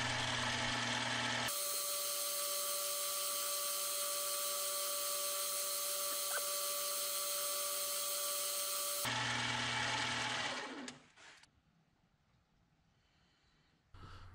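Rotary tool whining steadily as it polishes a shamrock ring with 1500 grit, a loud continuous high buzz for several seconds that cuts off abruptly, followed by fainter bench noise.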